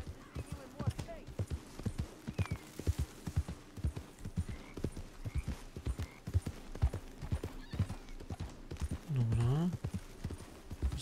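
Horse hooves clip-clop in a steady rhythm throughout in the video game Red Dead Redemption 2, with a brief whinny near the end.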